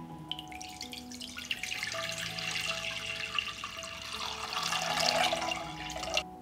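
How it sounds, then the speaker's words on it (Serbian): A litre of water pours into a cooking pot in a home kitchen, a steady splashing stream lasting several seconds before it stops abruptly, close and fairly loud with no talking. "Litar vode sipaću u šerpu."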